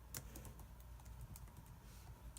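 Typing on a computer keyboard while filling in a Quizizz quiz, a quiet steady patter of small key clicks running the whole time over a low background hum, with no talking.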